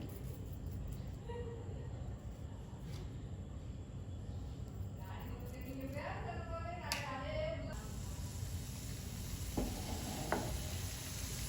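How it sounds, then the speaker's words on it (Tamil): Vegetables and tomato sauté with salt in a pan, a low steady sizzle and scraping stir running throughout, partly masked by a constant background rumble and some faint tonal clatter. "இப்போ நம்ம இந்த வெஜிடபிள்ஸ்லாம் வதங்குறதுக்காக உப்பு சேர்த்துருக்காங்க."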